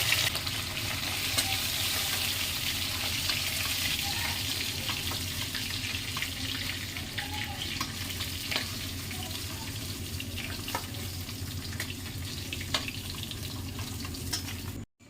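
Fish frying in hot oil in a home kitchen, a steady dense sizzle with occasional stirring and clinks, loud and continuous throughout with no talk, cutting off abruptly at the end.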